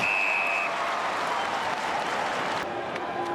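A stadium crowd roars and cheers steadily during an Australian football match between Geelong and Adelaide. The loud, dense wash of noise stays constant throughout.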